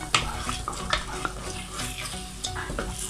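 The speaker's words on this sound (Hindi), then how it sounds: "इस टाइम पर आपने मुसलसल चम्मच को हिलाते रहना है कि ताकि ये नीचे ना लगे" A spoon works steadily through coconut milk halwa in a pan over medium-high flame, giving repeated close scraping strokes against the pan over a soft continuous sizzle, with no talking.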